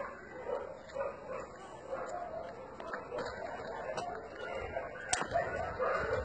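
A scared, tied-up mother dog at a shelter gives a few short yips and whimpering barks among scattered rustling and faint background noise, with one sharp bark standing out near the end.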